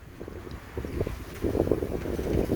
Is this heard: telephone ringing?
no